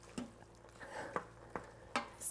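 Mac and cheese being stirred in an Instant Pot, giving a few soft, separate scraping and squishing strokes of a spoon through the thick pasta, close up and fairly quiet, with no talking.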